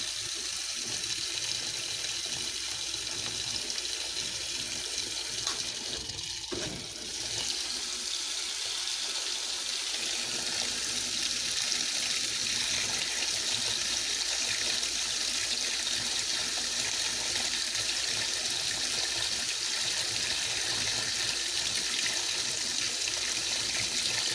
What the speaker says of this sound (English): There we go, there's the hot water.